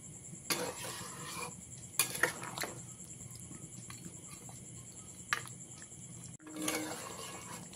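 A spoon scrapes and clinks in a pot as chicken and potato curry is mixed with chopped coriander, making scattered, fairly quiet metallic knocks with a faint kitchen hum between them.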